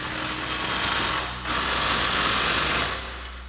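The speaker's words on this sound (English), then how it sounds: "now we're gonna tighten down our next passenger side clamp" Power tool whirring as it tightens an exhaust clamp over the axle of a RAM 1500, two loud buzzing bursts separated by a brief pause, close by.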